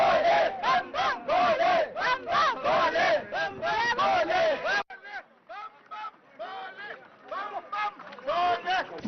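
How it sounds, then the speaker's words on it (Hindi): A crowd of Amarnath Yatra pilgrims at Domel shouts and chants in loud, rhythmic bursts of many voices, dropping quieter midway before swelling again. "इस वक्त हम दोमेल में हैं, जहां से हम देख सकते हैं कि यात्रियों की काफी भीड़ इस वक्त यहाँ पे लगी हुई है।"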